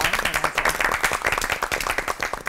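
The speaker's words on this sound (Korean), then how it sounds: "박수로 감사와 응원의 마음 전하죠." Audience applause in a church television talk-show studio, brisk rhythmic clapping from a modest crowd, close and fairly loud, running throughout with no talk over it.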